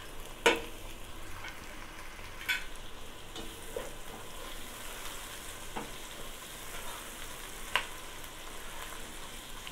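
Prawn fried rice with tomato sizzles steadily in a pan, a continuous frying hiss broken by a few sharp clinks of a utensil against the pan.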